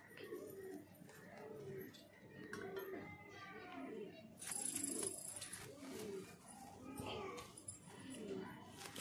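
A pigeon coos softly in repeated low, throaty phrases while it is held and its wings are handled, with someone speaking nearby and faint children's voices in the background.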